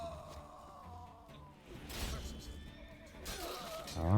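A horse whinnies in The Witcher 3 Blood and Wine, a broad neigh rising midway and again near the end over a busy game soundscape, with faint talk underneath.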